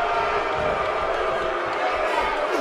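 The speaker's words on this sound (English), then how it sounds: "This is one this Kansas crowd came to see" Kansas wrestling arena crowd at a WWE battle royal, a dense continuous roar of cheering and shouting that stays loud and steady throughout, with voices mixed into the wash of noise.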